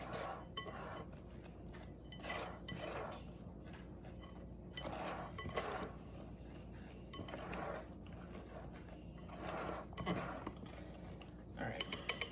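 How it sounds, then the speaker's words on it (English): A whisk clinks and taps against a bowl while mixing baking soda and salt, coming in short bursts of rhythmic metallic clatter separated by quiet pauses, fairly faint overall. "we're gonna whisk this together"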